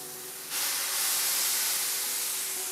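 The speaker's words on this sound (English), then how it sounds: "So as soon as this griddle heats up, we're dropping those babies on there." A burger patty drops onto a hot griddle and breaks into a loud, sudden sizzle, a bright steady hiss that swells quickly and then holds, close up and with no voices over it.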